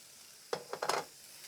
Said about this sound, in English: You should hear some sizzle.